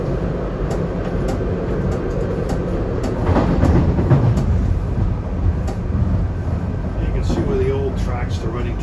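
SEPTA SL5 regional rail train running over snowy tracks, a dense rumbling roar with rhythmic clicks and clacks of wheels on rail joints, swelling louder midway, with a faint squeal near the end.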